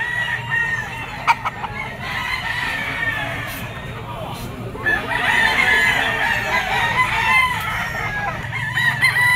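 Roosters and stags crow and cluck at a busy outdoor gamefowl pet market, with repeated loud crows over a crowded background of voices and people talking nearby.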